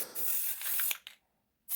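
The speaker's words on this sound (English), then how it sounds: "you do the spray paint black, put down your stencils, and then you go on with your painting over top of it" Black spray paint hisses from an aerosol can in a steady burst about a second long, then a brief short puff, a pause, and another burst starting, all close and fairly quiet.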